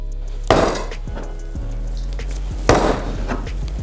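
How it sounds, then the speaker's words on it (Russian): Ground beef mince is slapped and beaten by hand for a burger patty, giving two sharp, loud smacks about two seconds apart over quiet kitchen background, with no talk. "Чем больше таких вот отбивающих манипуляций, они могут быть вот такие, с фаршем, тем лучше."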